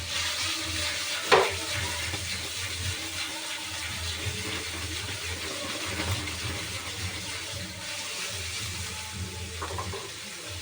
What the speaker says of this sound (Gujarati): તો આવી રીતે આપણે એને ફ્રાય કરતા રહીશું।